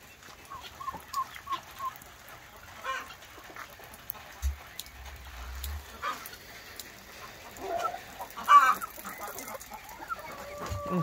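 Chickens cluck in a coop on a rainy day, scattered soft calls and short clucks near and mid-distance over a quiet background, with a louder squawk toward the end.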